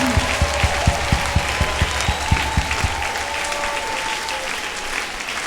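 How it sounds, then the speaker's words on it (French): A church congregation applauding to acclaim the Lord, clapping in unison with a slow, regular beat of sharp claps that fades into a looser murmur of crowd noise. "Est-ce que quelqu'un peut acclamer? Acclamer le Seigneur."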